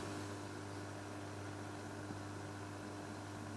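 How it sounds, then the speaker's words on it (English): A cheap 7-euro aquarium filter runs with a faint, steady mechanical hum and soft hiss, constant and unchanging throughout, with no talking. "the sound of this 7-euro filter"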